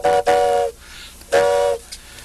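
Old mechanical train-whistle sound effect device, sounding two loud, steady whistle blasts of about half a second each, separated by a pause, alone with no talk.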